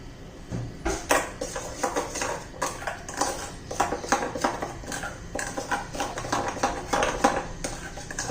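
Soybean chunks are stirred with garlic masala, chili powder and coriander powder in a pan, producing a busy run of close, rhythmic metallic scrapes and clinks from a spoon against the pan.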